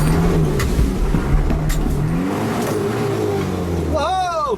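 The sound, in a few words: 4x4 truck engine revving, accelerating up hill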